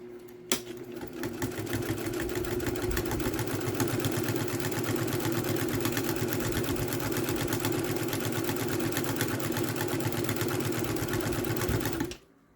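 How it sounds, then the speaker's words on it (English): A sewing machine top stitching a zippered bag at about 1/8 inch with a 3mm stitch length runs steadily and close for nearly the whole stretch, a fast even whir that cuts off abruptly at the end. "I'm all set to top stitch at about 1/8 of an inch"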